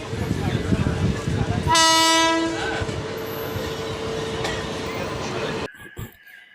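A Howrah–Bardhaman main line local train rolls along with a steady, loud rumble and rattle; a long horn blast sounds in the first seconds, and the noise drops away abruptly near the end.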